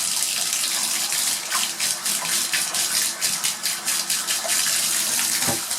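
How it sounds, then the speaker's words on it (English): Tap water runs steadily into a tub or sink for bringing outdoor plants inside, a continuous close splashing gush with small fluctuations and a brief clunk near the end. "and turn our water on"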